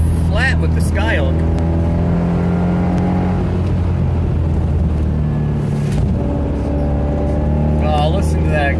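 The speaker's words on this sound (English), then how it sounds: "Oh, listen to that exhaust." A throaty Maserati Coupe or Spyder exhaust revs and burbles up and down through several gear changes, loud and close, with people talking under it.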